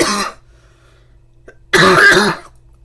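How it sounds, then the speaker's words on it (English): Two separate bursts of coughing and throat clearing from one person, a short one at the start and a louder, harsher one a moment later, close to the microphone with quiet between them. "Now you know why I say cough, cough, hack, hack, wheeze."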